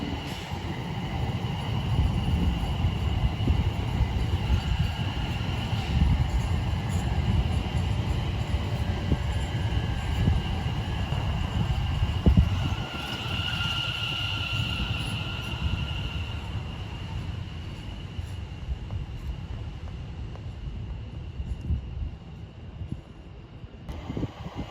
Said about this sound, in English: This train is formed of 5 coaches.